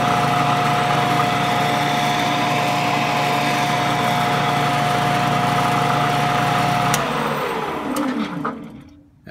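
A Shopsmith drives a jointer through a rubber power coupler with a loud, steady motor whine and hum. Near the end it winds down and fades away with a falling pitch, and nobody talks.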